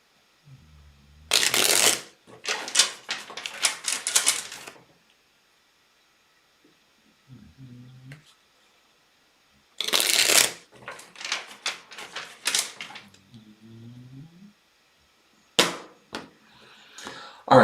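Tarot deck shuffled in two long crisp bursts of rapid card flutter, separated by quiet pauses, with a third short shuffle near the end; loud and close.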